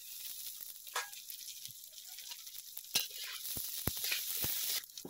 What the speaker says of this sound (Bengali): আমি তেলের মধ্যে মুগ ডালটা দিয়ে দিলাম। এবার একটু ভালো করে মুগ ডালটা ভেজে নেব।